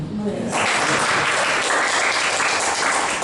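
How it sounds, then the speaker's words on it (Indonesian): Church congregation breaking into loud, dense applause after a brief spoken moment, with many hands clapping continuously and close for about three seconds. "Tepuk tangan."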